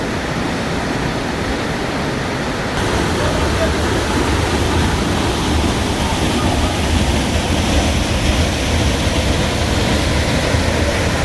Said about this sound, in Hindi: ये देखें जी वाटरफॉल, गिदार वाटरफॉल जी।